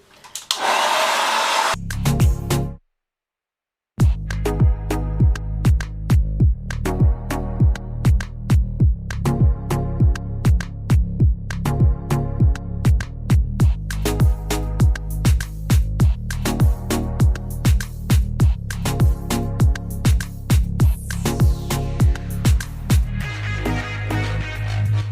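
A hot blow dryer runs steadily while drying natural, color-treated hair at home for a silk press, cutting out briefly once near the start, then droning loud and close with rhythmic pulsing as it moves through the hair.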